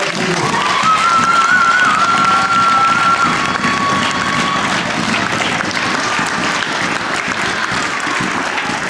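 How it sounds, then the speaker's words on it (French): A crowd applauds loudly for a champion in a steady, dense burst of clapping, with a few scattered shouts and cheers rising briefly early on. "Je voudrais que vous l'applaudissiez très fort."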